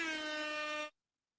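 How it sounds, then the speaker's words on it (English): A single loud air horn sound effect blasts steadily for under a second and then cuts off abruptly into silence. "Some air horn."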